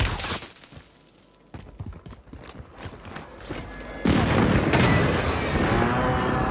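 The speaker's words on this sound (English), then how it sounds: "Friendly precision airstrike inbound." A precision airstrike in a battle royale video game sets off a series of booming explosions, with scattered thuds building to a loud, sustained blast rumble near the end.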